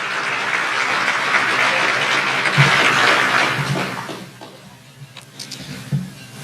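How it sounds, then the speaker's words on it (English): Loud, sustained applause fills a hall at a 2019 awards banquet, a dense wash of clapping that fades after about four seconds into scattered claps and a few voices. "Let's give them a big round of applause"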